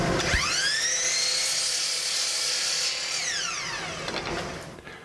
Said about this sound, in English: Our next step is to cut our 1x4s to length so we can assemble the base.